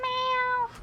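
A cat meows once in a TV commercial, a single drawn-out, tonal meow that rings loud and close for most of a second, then fades, with nothing else around it.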